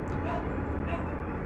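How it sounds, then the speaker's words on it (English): Dogs barking inside a home, muffled and mixed into a dense, steady background wash for a short stretch, with no clear separate barks standing out. "Apologies for the dogs barking"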